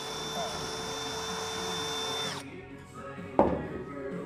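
A power drill whines steadily for a couple of seconds and then stops, followed by a short clunk and quieter room noise.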